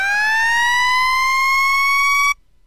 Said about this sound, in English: I can never remember the Q siren